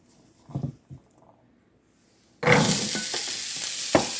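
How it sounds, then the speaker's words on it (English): Food starts sautéing in a pan, a sudden loud sizzle bursting in after a few faint knocks and then continuing steadily close up, with no talking. "And I'm going to let them saute a little bit first."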